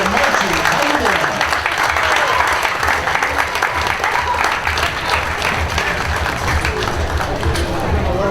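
A large crowd at the Armada Fair bump and run auto race claps steadily in a dense, continuous wash of applause, with a voice talking over it.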